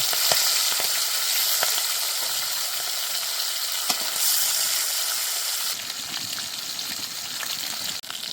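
Hilsa fish pieces fry in a hot pan with a loud, steady close-up sizzle and crackle, punctuated by occasional sharp ticks and a brief clatter near the end.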